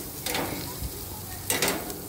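Acorn squash and onions sizzling in a hot pan on a grill, with two bursts of stirring scrapes over the steady frying hiss.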